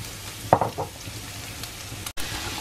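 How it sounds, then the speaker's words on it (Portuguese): Kale sautés with bacon, onion and garlic for caldo verde, a soft continuous sizzle broken by a few quick scraping stirs early on, close and moderately quiet. "Coloquei a couve pra refogar junto com o bacon e a cebola e o alho pra pegar o gosto."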